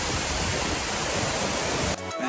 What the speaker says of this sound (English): Waterfall number 3.